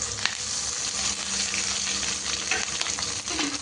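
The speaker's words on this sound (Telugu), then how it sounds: "వాటర్ అంతా ఇంకిపోయింది, ఇందులో కొంచెం ఆయిల్ వేసేసుకుందాం." Green chillies fry in oil in a pan while making Telangana-style gongura pudina pachadi, giving a dense, steady sizzle with crackling spits and faint stirring throughout.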